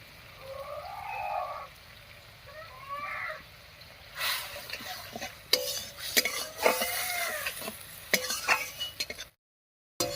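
Spice paste with salt and turmeric is stirred and fried in a pan, with scraping and clinking of a utensil against metal over a soft sizzle, growing busier in the second half, and a few faint voices early on.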